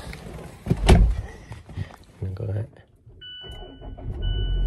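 A car engine cranks and catches, then settles into a low steady idle, with a door thunk and a chime heard close by; a person talks briefly.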